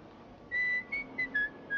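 Short signal whistle from a person, a handful of clear pitched toots with brief gaps between them, fairly faint in a quiet room.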